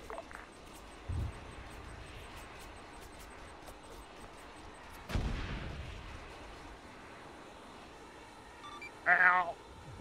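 Missile strike explosions in the video game Arma 3 land as a few separate low booms and rumbles at a distance, the loudest near the middle with a trailing roll, over steady background noise.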